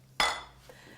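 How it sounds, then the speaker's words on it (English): A single bright clink as the paddle is lifted out of a Cuisinart ICE-31 fruit scoop maker, a sharp metallic-plastic knock that rings briefly and fades, followed by a faint tap. "It actually might be easier to take the paddle out."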